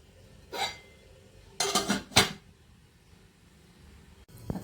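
A steamer lid is set down and closed over kothimbir vadi in a home kitchen, giving a few short metallic clatters with quiet gaps between them and a final light knock at the end.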